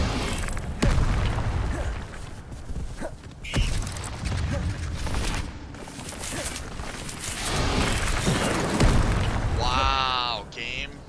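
Incendio fire spells cast in Hogwarts Legacy, heavy booming bursts and crackling whooshes over a dense combat din of impacts and effects, with a voice speaking over the action.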